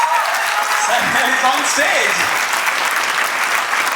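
Audience clapping at an on-stage interview event with a stage actor, a dense steady patter under a loud voice speaking over it throughout.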